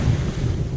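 Ocean waves in the video game What Remains of Edith Finch rumble as a low, continuous surf wash, windy and dense, with no voices.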